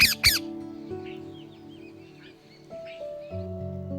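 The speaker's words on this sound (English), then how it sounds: "parrot," A parrot gives two sharp, loud squawks in quick succession, then fainter chirps and squeaks over a steady background tone.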